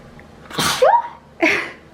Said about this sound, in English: Excuse me, I sneeze.